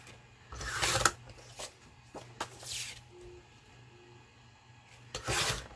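Paper being cut and handled for a minibook craft page, with rustling, sliding and snipping bursts spaced out over a quiet room, no talking.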